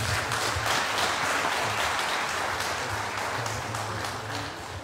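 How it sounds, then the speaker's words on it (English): Wedding guests for a South Sudanese couple applaud together, a steady wash of clapping that holds for several seconds before easing slightly, with a faint murmur of voices underneath. "So can we give them a round of applause,"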